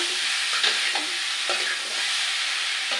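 Spices crackle and sizzle in hot oil as tempering for a banana curry cooked with fish, a steady dense hiss with faint stirring scrapes, alone without talk.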